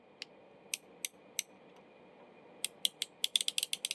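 A Craftsman 1/4-inch ratchet is turned backward to test its back drag. A few sparse, sharp pawl clicks come first, then a quick run of close, crisp clicks, all faint and close up with no talk.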